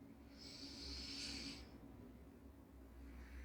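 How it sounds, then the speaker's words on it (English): A slow, deep breath drawn in and let out during a restorative yoga session, steady and close, with a soft hiss that swells and fades over quiet room tone. "Deep breathing."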